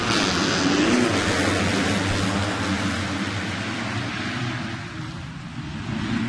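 A pack of 250cc motocross bikes revving together on the start gate at the Unadilla track in 2019, a dense, loud, sustained engine drone that swells and sags slightly, with no talk over it.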